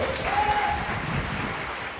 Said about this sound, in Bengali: একটা হাততালি জুয়েল সাহেবের জন্য।